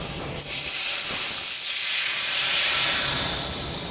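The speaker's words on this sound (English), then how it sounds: "I have a valve core remover that I like to use. So let the air out of the tire." Air rushes steadily out of a bicycle tire through its open valve after the core is removed, on a Riese & Muller Superdelite Mountain e-bike. A continuous, close, fairly loud hiss runs without any talk.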